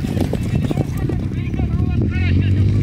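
Horses gallop in a baige horse race in Toraigyr, their rapid, rhythmic hoofbeats drumming steadily under a talking voice, with a brief whinny-like tone.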